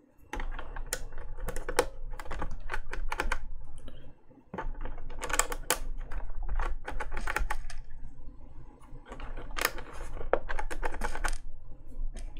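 Bursts of quick typing on a Kinesis Advantage keyboard fitted with Cherry ML switches, close-up crisp clacky keystrokes in irregular runs separated by brief pauses, heard alone.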